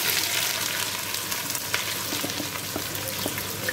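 Chopped onions frying in a pot for goat pillau, a steady loud sizzle with crackling pops and a few light stirring scrapes, heard close with no talking.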